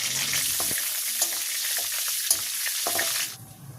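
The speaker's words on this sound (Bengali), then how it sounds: "তেজপাতা, শুকনো মরিচ আর কয়েকটা গোটা জিরা দিয়ে দিচ্ছি।" Bay leaf, dried chilli and whole cumin seeds frying in hot oil in a wok: a loud, continuous sizzle broken by light stirring clinks and scrapes, easing off near the end.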